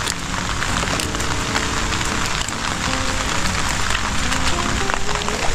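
Heavy rain falls steadily and densely, pattering hard on surfaces with a constant close hiss and scattered drips throughout, with no voices.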